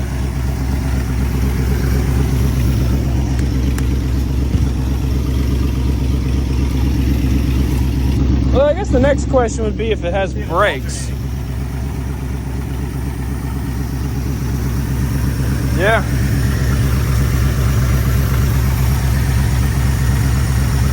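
An abandoned old Ford F-250 pickup engine idles steadily with a loud, even low rumble throughout, while people talk briefly over it midway.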